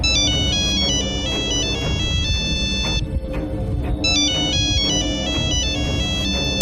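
A mobile phone ringtone plays a loud, continuous electronic melody of repeating bright tones, briefly pausing midway before resuming, with no voices.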